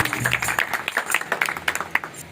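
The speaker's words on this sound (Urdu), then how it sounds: "یسوع مسیح کے لیے زور سے تالیاں بجائیں" A church congregation claps loudly during a Sunday service, a dense run of overlapping hand claps lasting a couple of seconds, with a voice faintly underneath.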